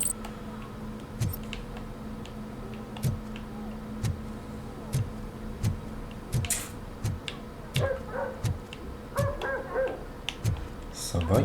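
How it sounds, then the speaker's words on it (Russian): Dogs barking in the video game RoboCop Rogue City, repeated sharp barks at a moderate distance over a steady mechanical hum and ticking background. "Собаки."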